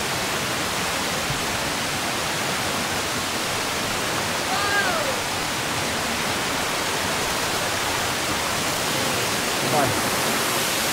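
Waterfall on the Gunung Nuang hiking trail, a dense, constant broadband rush of falling water close by, steady throughout with faint brief sounds barely rising above it.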